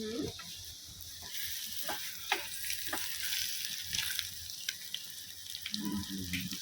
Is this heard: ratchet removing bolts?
no